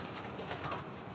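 A pigeon coos softly in a fancier's loft, a faint, low cooing set against steady background noise with no talk.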